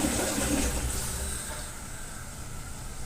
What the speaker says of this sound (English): Go ahead and flush your other toilet.